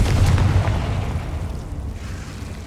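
Confringo blasting spell explosion in Hogwarts Legacy, a deep booming blast that swells at the start and then rumbles and fades over a couple of seconds, loud and close with no talk.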